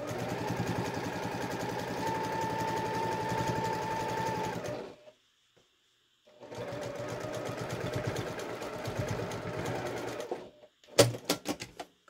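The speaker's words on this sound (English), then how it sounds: "And I'm back stitching on both sides" A sewing machine runs in long steady bursts while top stitching and back stitching a quilted fabric triangle pouch, with a pause of silence between runs and a few quick short stitches at the end.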